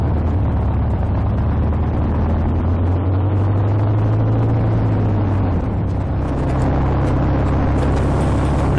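A motorcycle cruising along the M5 motorway on a club ride home from the South Downs. It makes a continuous close engine drone under heavy wind and road roar, steady throughout with a slight pitch rise and fall.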